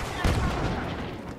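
A grenade blows up in Star Wars Battlefront, a loud low blast near the start that rolls into a sustained rumbling tail.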